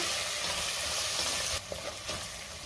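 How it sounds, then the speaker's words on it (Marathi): Spices, coriander powder, goda masala and cumin powder, being mixed in a hot pan for dal khichdi: a loud continuous sizzle that drops partway through, with a few soft scraping stirs after. "आता हे सगळं व्यवस्थित मिक्स करून घेऊया।"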